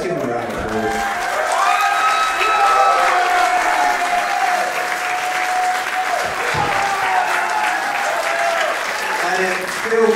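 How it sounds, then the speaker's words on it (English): An audience at a live tag team wrestling show applauds steadily and loudly for about ten seconds, with crowd voices and faint cheering mixed into the clapping. "Let's give them a round of applause."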